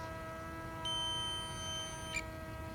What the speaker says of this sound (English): my transmitter's about to beep because of the battery